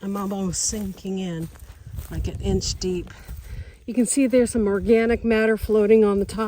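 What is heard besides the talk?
No everyday noises stand out.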